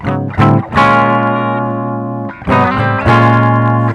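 Loud, thick distorted electric guitar chords ring out in sustained strums, with brief choppy restrikes between long held chords.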